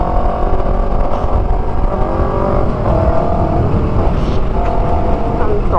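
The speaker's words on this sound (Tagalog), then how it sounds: "Hindi tayo marinig, maingay muffler natin eh." A race motorcycle rides on the road, its loud muffler putting out a constant, rough engine drone with wind noise throughout and small shifts in pitch as the revs change.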